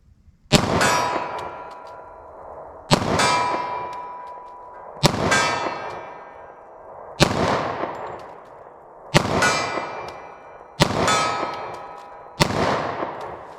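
Six loud .45 ACP pistol shots firing G2 Research Civic Duty hollow points from a short-barrel handgun at targets, each a sharp crack with a ringing tail, spaced about two seconds apart and heard alone.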